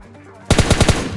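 Automatic gunfire in a battle royale video game: after a quiet half-second, a rapid burst of about five sharp, loud shots in quick even rhythm.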